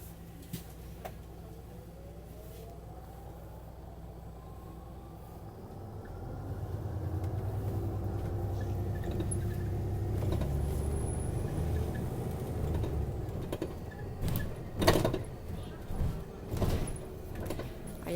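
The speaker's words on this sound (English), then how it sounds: "I am sitting at the very back of the bus" Ride from the back seat of Paris city bus route 86 along Rue du Faubourg Saint-Antoine: a low engine rumble rising as the bus pulls away, with door and rattle clunks, brake hisses and sharper knocks near the end.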